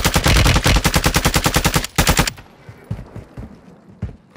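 Automatic gunfire in Call of Duty: Modern Warfare II, a loud rapid burst of evenly spaced shots for about two seconds, then quieter scattered impacts and game sounds.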